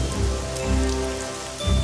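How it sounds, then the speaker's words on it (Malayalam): Steady rain falling on a surface, a dense continuous patter heard alone and fairly loud. "ഒടുവിൽ മഴ വരുന്നു."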